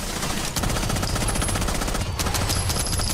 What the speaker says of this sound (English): Nice recoil control, Benja.